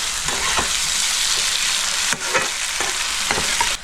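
Onions sizzle steadily in a hot pan as they fry to a light red for a chicken gizzard kosha, with sharp scraping strokes of a stirring spoon every second or so, close and loud, and no voices.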